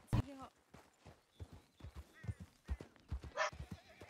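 A horse in a video game whinnies sharply at the start, followed by steady clip-clop hoofbeats, with voices talking over the game sounds.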